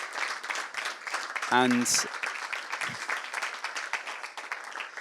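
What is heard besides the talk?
applause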